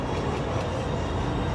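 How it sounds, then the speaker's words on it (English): A Disneyland parking tram rolls along with a loud, steady rumble and faint rhythmic clatter, a close continuous ride noise without talking. "take the Mickey and Friends and Pixar Pals tram back to the parking area"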